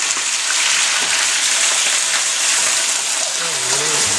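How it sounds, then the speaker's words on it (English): Chicken pieces fry in a hot pan with a loud, dense, continuous sizzle and crackle, close up, with a brief faint voice near the end. "Listen to that baby sizzle."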